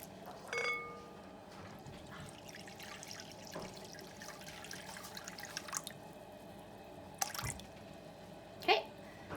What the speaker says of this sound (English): to your starter, you are going to add 350 grams of warm water